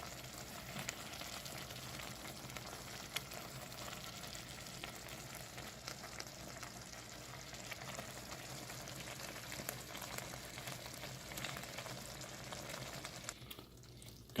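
Manwich sloppy joe mixture sizzles and bubbles steadily in a pan, a continuous close crackling hiss with faint pops lasting throughout, no voices.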